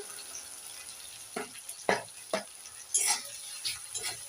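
Ground spice paste and tomatoes are stirred and fried in a pan, giving a soft background sizzle broken by several short scraping strokes and clatters, with no talk.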